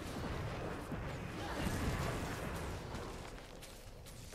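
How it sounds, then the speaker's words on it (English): Catapult siege fire in a Guild Wars 2 battle, a dense rumbling wash of distant booms and impacts under steady battle noise, no clear talking. "They got a catapult firing on us."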